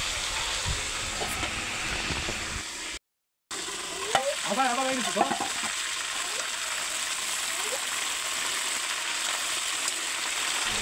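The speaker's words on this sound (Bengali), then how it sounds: "মুরগিটা আমাদের আস্তে জালে ভাজতে হয় যেন সেদ্ধ হয়।" Chicken pieces fry slowly over low heat in a pan, a steady soft sizzle with occasional stirring, briefly broken by a short silence and a passing voice.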